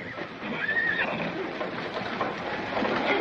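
Horses neigh and whinny at a corral, one sharp whinny standing out near the start over a continuous layer of horse noise and shuffling, fairly close and loud, with no talk.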